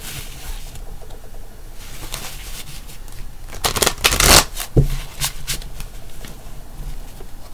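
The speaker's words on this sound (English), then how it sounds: "Just doing a couple more shuffles just to have my energy in here." Tarot cards being shuffled by hand, a steady papery riffle running throughout with a louder burst of flicking and snapping near the middle, close and clear with no voices.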